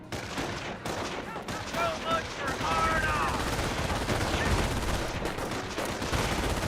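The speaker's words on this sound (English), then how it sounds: "MG42 captured there, firing away, keeping distance from the pintle mounts." Captured MG42 machine gun firing in Company of Heroes, a dense sustained stream of rapid gunfire over steady battlefield noise, with a voice talking underneath.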